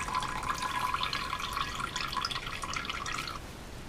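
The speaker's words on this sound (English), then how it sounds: "the water's coming out the bottom." Water drips and trickles out of a squeezed handful of joker bait, a soft, close patter of small droplets that goes on steadily for a few seconds and then stops.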